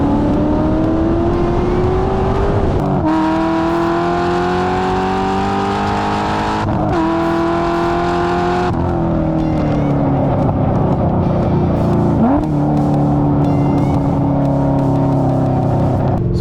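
A 2007 Chevrolet Corvette C6 Z06 V8 is driven hard on a race track, its loud, close engine note rising through the gears with sharp shifts and repeated pulls of acceleration.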